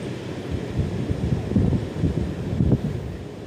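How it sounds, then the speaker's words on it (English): Breezy wind on a beach buffets the microphone in a steady low rumble with gusty swells, close and fairly loud, with no voices. "I know it's breezy out here"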